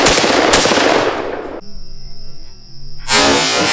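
Panzer M4 semi-automatic shotgun firing buckshot, loud close blasts with broadband roar, one burst lasting about a second and a half, a short quieter pause with ringing, then another heavy blast.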